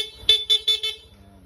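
Four quick, rapid toots from a PIAA horn on a Yamaha Aerox V3 scooter sound over a low idling engine, loud and close.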